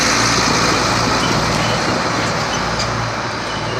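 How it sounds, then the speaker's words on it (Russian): Heavy trucks roll past on a road through a working district in China, a loud, continuous roar of engines and tyre noise that stays close throughout, with no voices. "Грузовики."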